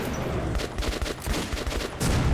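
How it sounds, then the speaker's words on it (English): Rapid bursts of automatic gunfire in the video game Metro 2033, loud sustained rattling volleys with short gaps, close and without talk. "Shoot it, Han."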